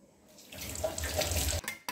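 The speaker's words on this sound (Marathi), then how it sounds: "कांदा कधी पण मी चिरला ना त्याला धुवून घेते नळाखाली" Running tap water from a kitchen faucet as chopped onion is rinsed under it in a home kitchen, a steady close splashing stream that starts after a brief quiet moment and stops abruptly near the end.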